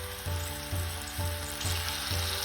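Two medium tomatoes frying in a pan for a pressure-cooker chicken leg curry, giving a steady, close sizzle with rhythmic stirring or scraping thumps about every half second.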